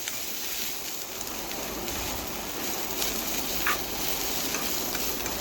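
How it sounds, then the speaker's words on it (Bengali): Onions frying in a pan while being stirred to soften, giving a steady close sizzle throughout with a few light scrapes of the spoon. "এইভাবে নাড়াচাড়া করে পেঁয়াজ একটু নরম করে নেব।"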